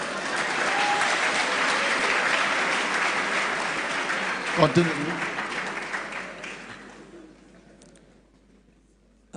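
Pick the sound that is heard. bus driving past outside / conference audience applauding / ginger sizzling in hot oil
conference audience applauding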